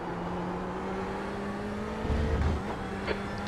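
LMP2 prototype race cars in iRacing at Sebring, part of an IMSA race, pass with a steady engine drone that swells briefly, as though a car is drawing close and going by.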